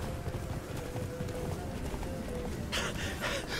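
Roach, Geralt's horse in the fantasy game The Witcher 3: Blood and Wine, gallops with a rapid, rhythmic clatter of hooves on ground, fairly close and steady throughout, with a brief burst of other game sound near the end.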